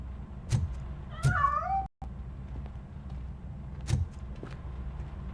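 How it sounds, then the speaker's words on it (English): A cat meows in the RoboCop: Rogue City video game, giving one clear drawn-out wavering meow, with a few sharp knocks and thuds around it against a steady low background hum. "That cat must be hiding inside."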